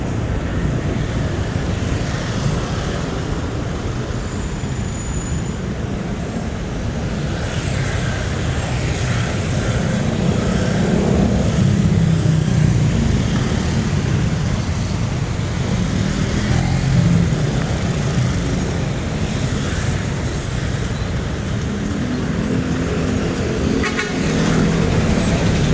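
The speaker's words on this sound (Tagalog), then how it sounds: "traffic na naman, oh" A congested Philippine street hums with idling and creeping cars, motorcycles and trucks, a dense steady rumble broken by occasional short horn toots, with no talk over it.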